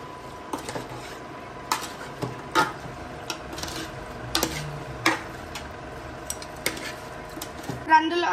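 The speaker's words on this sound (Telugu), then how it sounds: "ఇప్పుడు మనమైతే దీన్ని అయితే మిక్స్ చేసేద్దాం" A spoon scrapes and clinks against a metal pot while chicken biryani ingredients are mixed, with sharp intermittent knocks and rubbing strokes at close range and a faint voice in the background.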